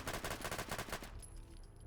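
Machine pistol fire in Fallout 4, a fast, even burst of about a dozen rounds, loud and near, then a short trailing tail as the shooting stops.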